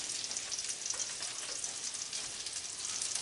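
Onions for a House of Blues-style burger grill on a hot pan, giving a steady bright crackling sizzle at moderate distance, with no voices.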